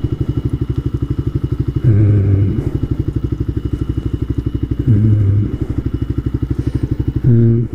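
A motorcycle engine idles and runs steadily up close with a rapid, even pulse throughout, broken by three short louder bursts of clatter and thumps as the bike is ridden into motorcycle parking and stopped on a rider's errands.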